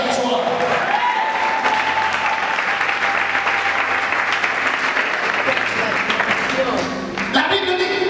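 Church congregation at a French-language service clapping loudly and continuously, a dense, sustained wash of applause that dips briefly near the end and then swells again.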